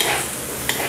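Soft rice fried with soy sauce is tossed in a hot pan, a continuous close sizzle with stirring scrapes and one brief sharp clink near the end.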